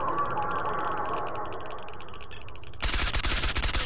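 Rapid automatic gunfire in the first-person shooter S.T.A.L.K.E.R.: Shadow of Chernobyl, a sustained loud, dense rattle of shots that cuts in abruptly near the end after a stretch of quieter in-game ambience.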